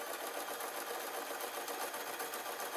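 A sewing machine stitches a fabric knitting bag with bamboo handles, giving a steady, close, continuous mechanical whir that runs without pause or talk.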